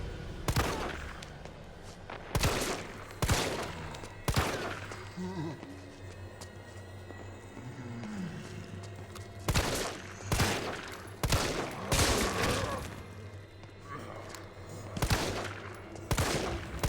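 Bursts of gunfire from a shooter video game, several sharp volleys spaced irregularly over a low background hum, loud and close, with brief quieter stretches between the shots.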